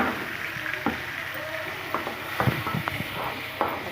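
Tomatoes frying in a pan for egg curry give a soft, steady sizzle, broken by a few light stirring knocks and scrapes, close and moderate in level over a few seconds.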